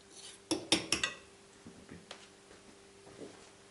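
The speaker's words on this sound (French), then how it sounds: "Et maintenant, je mélange le poisson à la crème fraîche." Fish being mixed with crème fraîche in a dish for a cod gratin, giving a few quick clinks of a utensil against the dish, then softer scraping and stirring.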